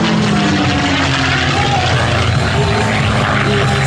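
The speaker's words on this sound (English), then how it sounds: "Is actually a TF-51 Mustang, which was the very last designation given to the Mustang series" A TF-51 Mustang, a dual-cockpit, dual-control trainer-fighter version of the P-51, performs aerobatics at an air show. Its propeller engine gives a loud, steady roar throughout, and no speech can be heard.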